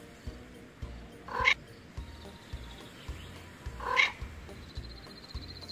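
Two distinct cat meows in the VR game Horse Simulator, spaced a few seconds apart over a quiet, rhythmic game background.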